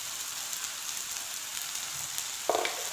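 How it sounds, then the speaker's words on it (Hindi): Spice masala roasting in a pan for dhaba-style egg curry, a steady soft sizzle and crackle with a brief louder stir near the end. "मसाले को भून लेना है आप लोगों ने।"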